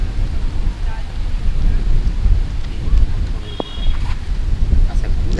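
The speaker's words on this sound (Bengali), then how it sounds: "বৃষ্টি চলে আসতেছে জানেন পানি বৃষ্টি নামতেছে বৃষ্টি পড়তেছে" Stormy outdoor weather at a rural homestead as rain moves in, with strong wind roaring steadily against the microphone, a single distant crack of thunder partway through, and a faint voice now and then.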